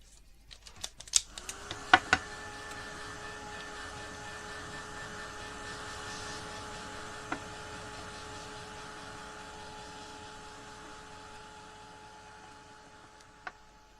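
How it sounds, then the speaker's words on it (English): Heat tool drying paint on a ceramic skull gives a steady, faint blowing hum with a thin whine that runs through most of the stretch, after a few sharp clicks at the start. "what you want to then do is just dry it using a heat tool once again"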